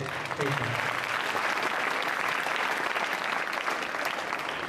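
Audience applause fills a school annual day function, a dense steady clapping that carries on throughout, with a brief voice at the start.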